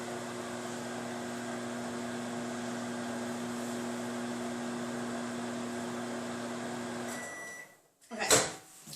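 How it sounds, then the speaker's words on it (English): A microwave oven cooking a green bean casserole hums steadily and evenly at moderate level for about seven seconds, then cuts off, followed by a brief clunk as the door is opened. "Okay, a few seconds left."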